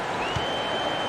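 A virtual arena crowd in an NBA 2K22 Brooklyn Nets vs Chicago Bulls game gives a steady, loud roar of cheering and applause that fills the whole short stretch without a break.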